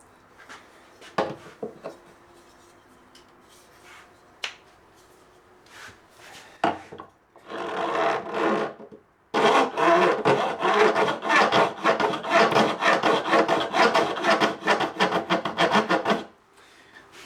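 A metal file grates across the fret edges of a guitar fretboard during finishing, with short scattered scrapes at first, then long loud continuous rasping strokes that stop abruptly near the end.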